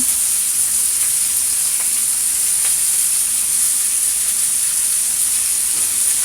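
Steady, dense sizzling of food frying in a frying pan rather than a fryer, a continuous bright hiss with a few faint clicks, close and fairly loud throughout.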